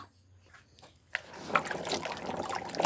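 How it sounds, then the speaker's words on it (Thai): Freshly picked wild forest fruits are washed in water: quiet sloshing at first, then a rising wash of splashing and trickling with small clinks, close by and with no talk. "เดี๋ยวค่ะเฮาก็มาล้างน้ำทำความสะอาดมัน"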